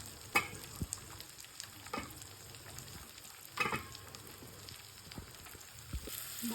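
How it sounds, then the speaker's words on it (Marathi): Garlic and onion fry on low heat in a pan, giving a quiet, continuous crackle with scattered pops and a few light scrapes of stirring. "बारीक गॅसवर लसूण ब्राऊन होईपर्यंत आपल्याला तळायचं आहे"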